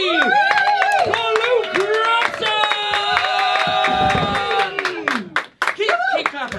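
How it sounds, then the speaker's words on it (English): A comedy-show audience in Brighton and Edinburgh claps for a comedian with rapid, dense clapping while excited voices and a loud speaking voice ring out over it. "So please put your hands together"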